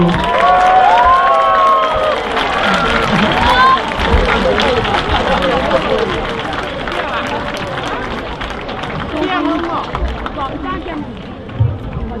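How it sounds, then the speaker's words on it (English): Large crowd applauding and cheering at a middle school graduation ceremony, loud sustained clapping mixed with whoops, shouts and babble, tapering slightly toward the end. "If we could just have one more loud round of applause for the 2024"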